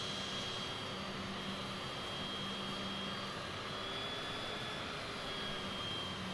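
Airliner jet engines in Microsoft Flight Simulator 2020, taxiing toward the runway at Dallas Fort Worth before takeoff: a steady, continuous turbine roar with a faint high whine, constant in level throughout and free of talk.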